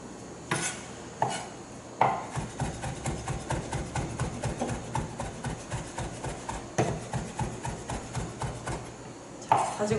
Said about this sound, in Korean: 펼쳤을 때 다져진 정도를 보고 다시 끊어 썰어줍니다